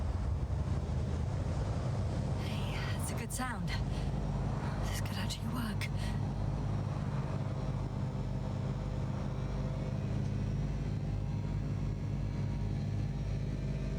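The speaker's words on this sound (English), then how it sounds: "The engines are functional." Spacecraft engines thrusting in the video game The Invincible make a steady low droning rumble that runs the whole time beneath someone talking, with a few brief higher whooshing tones early on.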